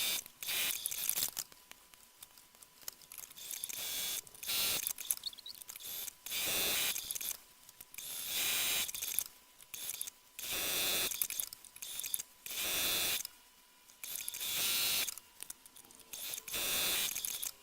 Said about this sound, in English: I tend to sew along one long edge, do all those in one go, and then do the other long edge separately.